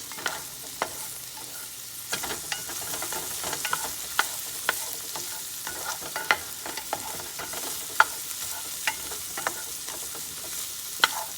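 Vegetables cook down in hot oil in a pan, giving a constant soft sizzle with scattered sharp clicks and taps of stirring throughout, near and moderately loud, no voices.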